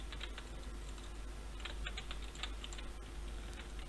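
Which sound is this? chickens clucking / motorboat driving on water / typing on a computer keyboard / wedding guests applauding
typing on a computer keyboard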